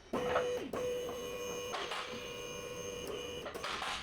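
A vehicle lift raises a Ford Focus ST in a workshop with a steady, droning electric motor whine carrying a tonal hum and faint metallic clunks, heard close and continuous for the whole stretch, with no speech.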